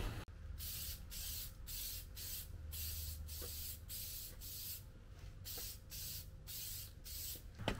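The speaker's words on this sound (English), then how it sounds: "I'm gonna spray something non-car related just to see if it does come out how it's supposed to" Aerosol spray paint can applying a coat to a part for a drift-built BMW E36: a rapid series of short, even hissing bursts close by, repeating steadily in quick rhythm with no talk.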